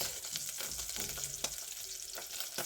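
Beef frying with tomatoes and onions for a stew served with ugali gives a quiet, close sizzle, broken by a few soft scrapes and clicks as the pan is stirred.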